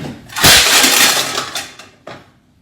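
Melamine plates and dishes dropped onto a hard floor in a break-resistance test make a loud clattering crash. A second, smaller clatter follows about a second and a half later, and nothing shatters.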